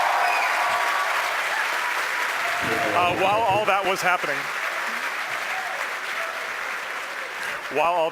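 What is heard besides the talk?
crowd cheering at SpaceX headquarters after Falcon 9 landing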